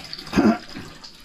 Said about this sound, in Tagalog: Diyan pala bumabagsak ng tubig.